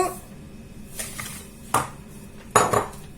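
Coconut going into a mixing bowl: soft handling noise with a couple of sharp, close clinks of a utensil against the bowl near the end, no talking.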